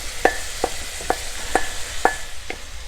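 Butternut squash tipped into a pan of frying bacon lardons, giving six evenly spaced stirring scrapes and clatters over a low, steady sizzle, close and moderately loud.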